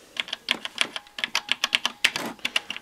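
Someone types briskly on a vintage 1984–85 gray mechanical-switch XT computer keyboard, producing a rapid run of sharp, clacky keystrokes, close and clear with no voices.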